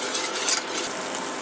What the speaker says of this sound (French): on vient ici mélanger donc tous les ingrédients